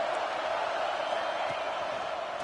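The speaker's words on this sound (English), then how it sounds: "Decibels rising as the crowd gets behind this defense on 3rd down." Stadium crowd noise from a college football video game, NCAA 26, at a Virginia Tech at UCLA game on third down, a steady dense roar with faint whoops throughout.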